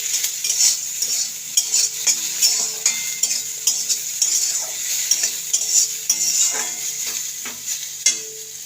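A spoon scrapes and clinks in a frying pan as spiny gourd with salt and turmeric is stirred, steady close strokes repeating over a soft sizzle of frying.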